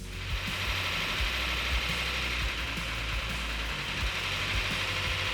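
An original Plymouth Cuda engine runs steadily with a light, rapid ticking of lifter noise over a continuous close mechanical hum, no voices present.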